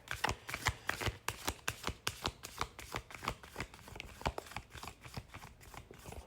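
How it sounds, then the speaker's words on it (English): Cards are shuffled repeatedly at close range, quick riffling bursts and soft flicks in an uneven rhythm, fairly quiet with no talking. "Sorry, I dropped some cards. I'm going to shuffle here."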